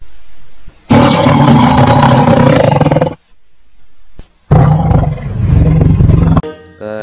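A tiger roar plays from a toy train wagon, two loud bursts separated by a short silence, each a harsh growling roar close to the microphone, followed by a brief electronic tone at the end.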